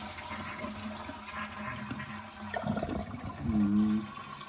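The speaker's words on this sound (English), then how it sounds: "Empty the cistern." A toilet cistern is flushed after the water supply has been shut off during a plumbing job, giving a rising rush and gurgle that swells toward the end, moderately close, with no talking.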